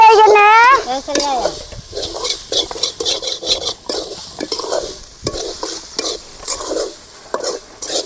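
Grated coconut roasting in a pan while a spoon stirs it, giving repeated scraping strokes and a light dry sizzle, with a short squeaky tone at the start.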